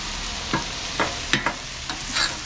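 Ground beef browning in a pot for hamburger soup sizzles steadily while a spoon scrapes and stirs it in several distinct strokes, close up with no talking.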